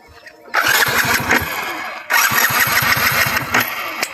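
A motorbike engine cranks and catches twice: a short start, a pause, then a second start that settles into a loud, close, chugging idle with a rapid pulsing beat.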